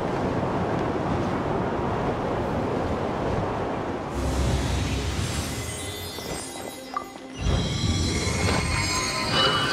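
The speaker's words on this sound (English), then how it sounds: "Let's ride this wind current," Rushing wind and a surf-like whoosh while riding a wind current in Genshin Impact, a steady loud airy roar that swells and shifts midway with no talking.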